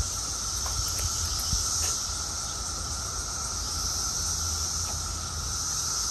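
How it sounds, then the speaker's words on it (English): Cicadas in the middle of cicada season produce a steady, continuous high-pitched buzzing drone that never lets up. The sound comes from nearby with no talking over it. "There's a subtle hum with some screaming involved, and that's all the cicadas."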